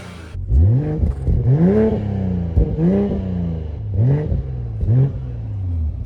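A BMW Z4 engine revs repeatedly, climbing in pitch and dropping back in about five rising sweeps over an idle. It sounds loud and close, with no one talking.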